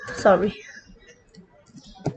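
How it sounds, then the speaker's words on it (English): A few quick computer keyboard keystrokes while typing text into a Scratch platformer game project, faint and brief, with a short burst of speech at the start and a louder click near the end. "what am I typing?"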